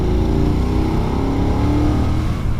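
A BMW F900R twin-cylinder motorcycle engine pulling hard and loud in fourth gear from 2,500 rpm, its low throbbing note climbing steadily under acceleration, close up with no talk.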